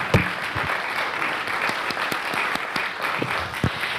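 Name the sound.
audience applause for the speakers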